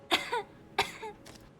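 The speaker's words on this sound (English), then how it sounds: "The girl starts to cough again." A girl coughs in Gerda: A Flame in Winter, two sharp hacking coughs about half a second apart, each with a rasping tail, then a softer breathy exhale, close and clear.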